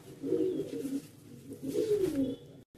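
Soft, low coos from Madrasi and Andhra pigeons in a loft in Behala, Kolkata, in two rolling bursts, close by, with a quiet pause between and a brief hush near the end.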